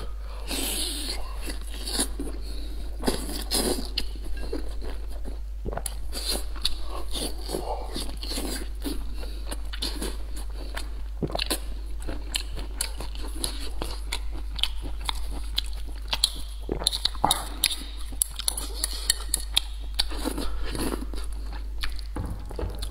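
Close-miked mukbang eating of rice mixed with roasted chili sauce, with steady wet chewing and soft crunchy bites repeating throughout, sounding intimate and unhurried, no talking.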